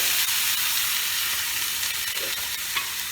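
Onion paste hitting hot oil in a pan for egg korma, a loud, dense, steady hiss of frying with faint stirring scrapes, close up and without voices.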